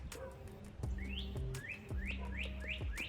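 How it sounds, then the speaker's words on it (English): A pet bird chirps cheerfully indoors, a series of rising whistled tweets repeating roughly every half second, clear and close, alongside a low background hum and occasional clicks. "That bird is happy."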